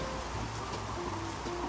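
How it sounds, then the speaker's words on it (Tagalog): Heavy rain pouring outside in Korea, a steady dense wash of drops hitting surfaces, continuous and fairly close with no pauses. "Ang lakas ng ulan."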